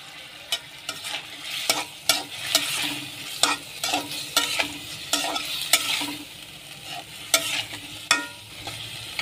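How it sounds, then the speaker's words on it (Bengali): Potatoes are sautéed in spiced oil, a steady close sizzle punctuated by regular scraping strokes of a spoon or spatula against the pan, with no talk. "প্রথমে আমি আলুটাকে কষাবো সুন্দর করে।"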